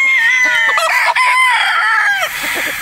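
A Boston Roundhead gamefowl rooster about six months old crows loudly and close by in one long drawn-out call, followed by softer clucking as it trails off.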